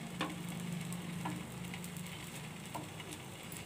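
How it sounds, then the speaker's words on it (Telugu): A chapati fries in a pan with a soft, steady sizzle, broken by a few light ticks and taps. "ఫ్రై అయిపోవాలి చపాతీ"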